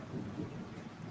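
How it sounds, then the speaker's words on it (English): Thunder rolls as a low, steady rumble, with rain adding a soft hiss over the whole short stretch. "Yep, that was thunder."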